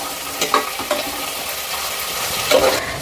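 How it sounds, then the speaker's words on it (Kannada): Chopped onions and chilli frying in a pan, a close, continuous sizzle broken by a few sharp scraping stirs of a spoon against the pan. "ಚಿಲ್ಲಿನೂ ಹಾಕೊಂಡು ಫ್ರೈ ಮಾಡ್ಕೊಂಡ್ಬಿಡೋಣ."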